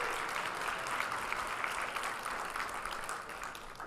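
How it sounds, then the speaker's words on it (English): Audience applause at a conference session, steady and dense clapping from a large crowd filling the space throughout, without speech over it. "Let's also give a round of applause to our incredible partners at Encore, the entire MGM staff."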